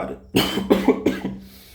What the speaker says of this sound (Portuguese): eu não melhoro dessa tosse nunca